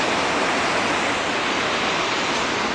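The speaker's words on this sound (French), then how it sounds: "Il y a ces longues vagues qui cassent là-bas" Long ocean waves breaking on a surf beach at Anglet, heard as a steady, dense wash of surf noise that runs unbroken and fairly loud from start to end, with no voices.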